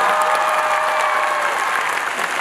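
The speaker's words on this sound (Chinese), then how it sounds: "我们掌声给我们唐老师" Audience applause at a live classical-pop concert with the Shenzhen Symphony Orchestra in Shenzhen, a steady, dense wash of clapping from a large crowd that holds evenly throughout.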